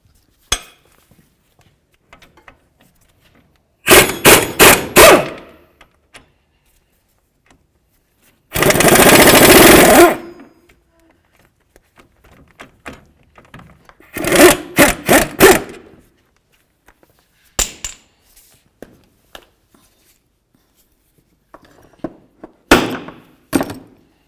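Removing the two brake caliper bolts on a 2007-12 Nissan Sentra during a wheel bearing job: several short bursts of rapid ratcheting and a harsher whirring scrape, close up, with quiet gaps and small clinks between.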